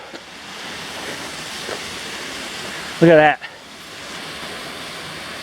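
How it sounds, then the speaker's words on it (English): A waterfall in Shirley Canyon, Olympic Valley, roars as a steady, broad rushing wash that fills the whole moment, while a person briefly speaks over it partway through. "That's a big waterfall."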